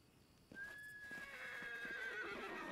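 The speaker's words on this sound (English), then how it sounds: "We release the horses." Horses neigh and whinny in the fantasy game Pathfinder: Kingmaker, a loud rising cry rolling into a long whinny with faint hoof clip-clops and game ambience beneath.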